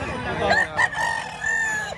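Rooster crowing at a busy chicken market in Batangas, one loud drawn-out crow close by over background crowd murmur and other fowl.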